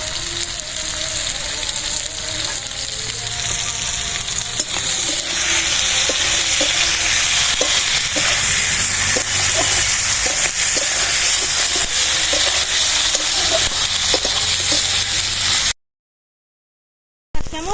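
Slit green chilies and onion petals fry in a pan of hot oil, producing a loud, continuous sizzle with scraping stirs that runs unbroken until it cuts off abruptly near the end.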